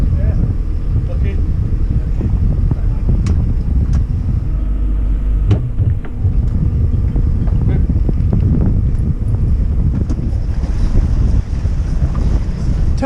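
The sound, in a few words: wind while sailing a boat to windward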